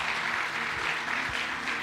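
Congregation clapping inside a church, dense steady applause filling the space with a few louder hand claps standing out.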